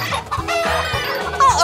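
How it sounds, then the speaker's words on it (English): Chickens cluck in short, agitated bursts while being chased, several sharp calls close by in quick succession, one rising into a brief squawk. "Chickens don't like to be chased."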